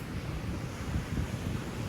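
Ocean waves crash and wash steadily, a dense, continuous rumbling roar with some wind noise on the microphone and no voices.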